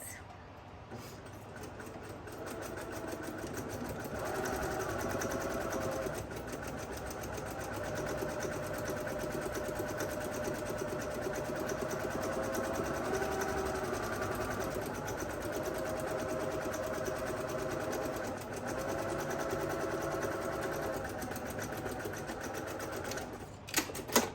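A sewing machine runs steadily while stitching a half-inch seam on a flat-bottom tote bag, its fast, even mechanical rattle close and continuous for the whole stretch before stopping with a couple of clicks at the end.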